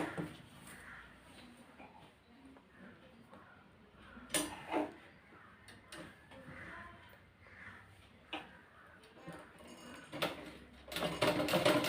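Sewing machine stitching blouse fabric in short, quiet bursts of rapid clatter separated by pauses, with soft handling noises between runs and a louder busy stretch at the end.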